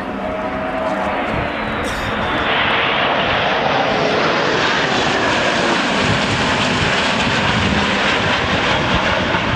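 A display aircraft with its gear down flies in low along the runway line at the Fairford air show, a loud, continuous engine roar that swells and holds, nearly filling the scene.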